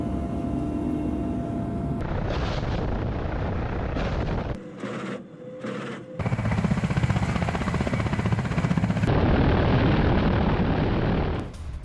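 Mi-28NM military attack helicopter flying during the Zapad 2025 military exercise, a loud sustained rotor and engine roar with a brief drop near the middle before it surges back, close and without voices.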